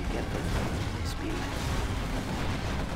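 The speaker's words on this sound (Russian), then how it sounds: "Вот это бомбануло." A bomb explosion in the video game C&C Generals Evolution, heard as a dense, rumbling blast with steady low roar and crackle throughout.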